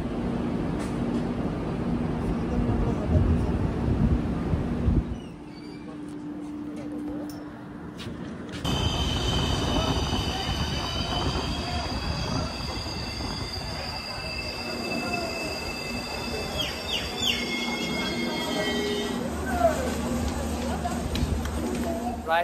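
The Kamrup Express pulls into New Cooch Behar station, its wheels letting out long, high metallic squeals over a steady rumble of rolling cars, with people talking nearby throughout.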